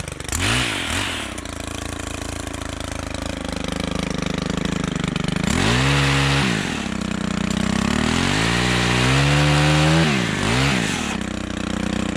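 A Stihl chainsaw cuts a tree limb, its engine loud and close, surging and dropping in pitch as the chain bites and then eases off, running steadily with no voices.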